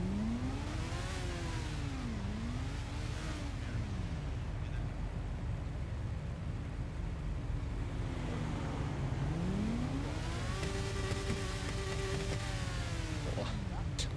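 A motorcycle engine revs repeatedly during a group motorbike ride, rising and falling in pitch in several loud surges with a steady idle rumble underneath.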